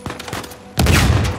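Gunfire in Uncharted 4 on its hardest difficulty: a few faint, scattered shots, then a sudden loud, close burst of rapid fire that carries on to the end.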